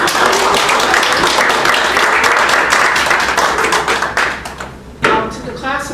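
Loud, close round of applause from an audience at a college alumni award ceremony, dense clapping that tapers off, then a brief fresh burst before it settles, with some talk mixed in.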